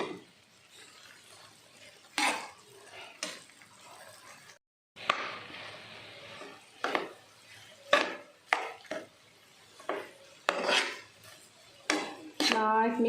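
Squid sukka being stirred and mixed in a pan: a spoon scrapes and clanks against the metal in irregular strokes, with soft sizzling and wet shuffling between them, close and fairly quiet.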